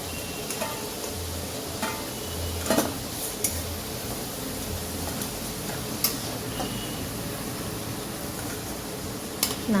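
Potatoes fry in oil in a pan, giving a soft, steady background sizzle broken by scattered ticks and light clinks of a utensil against the pan, with no talk.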